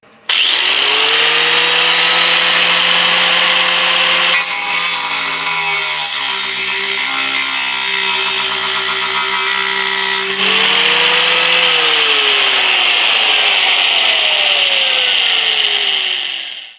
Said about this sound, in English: this plate needs to be cut, so I'll try this with the angle grinder